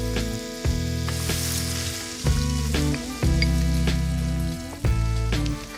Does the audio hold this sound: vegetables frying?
yes